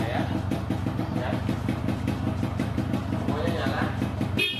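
A Yamaha RX King 135cc two-stroke motorcycle idles nearby with a rapid, steady pulsing putter, while a person talks over it throughout.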